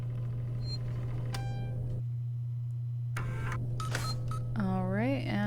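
Save station in the video game Alien Isolation giving a sequence of electronic beeps and rising synthetic tones over a steady low game hum, ending in a warbling chirp.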